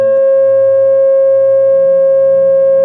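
A steady pure sine tone pitched at 540 Hz, standing for the pentagon's 540 degrees in a series of geometric healing frequencies, holds loud and unbroken for about three seconds with a faint low hum beneath it.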